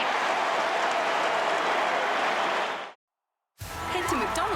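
Crowd at an Australian football match, Carlton versus Port Adelaide, clapping and cheering in a broad, steady roar of applause that cuts off abruptly into silence, then a voice begins speaking.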